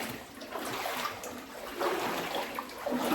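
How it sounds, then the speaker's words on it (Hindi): Water flows over rounded stones at Guchhupani near Dehradun, a steady close rushing and splashing babble with brief louder surges, no voices over it. "पानी का फ्लो थोड़ा सा अभी ठीक है।"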